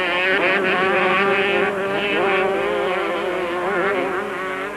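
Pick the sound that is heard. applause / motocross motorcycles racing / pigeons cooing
motocross motorcycles racing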